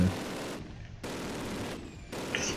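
Machine gun fire in the Call of Duty Classic video game, dense broadband bursts of rapid shots broken by two short pauses, loud and close.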